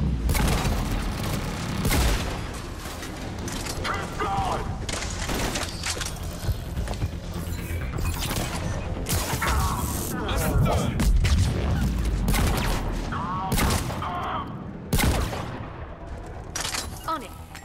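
Dense turret gunfire and explosions in a Mass Effect 3 combat scene, with constant rattling bursts and booms throughout and voices talking over the fighting.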